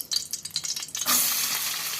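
Onions hitting hot oil in a pan for a Peddamma-style stuffed brinjal fry: a few scraping stirs, then a loud, steady sizzle that swells and holds close.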